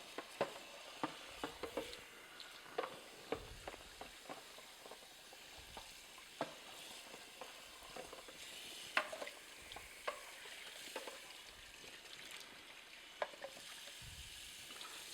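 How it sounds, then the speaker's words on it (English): Water is run through and rinses the BPA-free juice-contact parts of a Sana Horeca EUJ-909 juicer. A faint, steady splashing hiss is dotted with irregular small taps and drips of plastic pieces being handled, with no talking. "I'll just run some water through"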